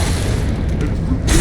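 Rocket explosion in Metal Gear Rising: Revengeance, a dense, loud, sustained boom of roaring noise that cuts off abruptly.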